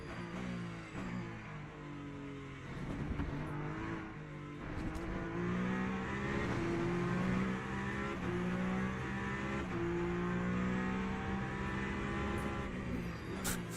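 Lamborghini race car engine in the racing game Le Mans Ultimate, a loud, steady droning roar that climbs and falls in pitch through gear changes as the car accelerates hard.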